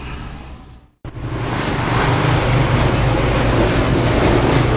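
A Yamaha Scorpio 225 motorcycle, fitted with a substitute carburetor vacuum set, fires up after a brief silent gap and settles into a loud, steady, close engine roar.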